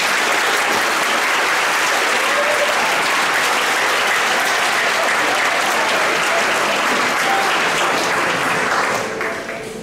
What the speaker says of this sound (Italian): Facciamo loro un applauso.